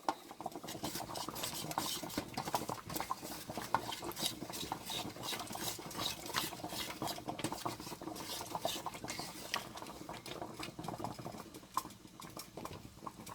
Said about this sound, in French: Et je vais bien mélanger le tout.